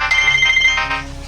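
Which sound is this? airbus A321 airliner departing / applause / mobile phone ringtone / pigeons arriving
mobile phone ringtone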